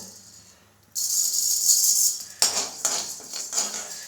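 Jowar (sorghum) grains roast a spoonful at a time in a pan, giving a steady sizzling hiss with sharp metallic scrapes and clinks from stirring partway through.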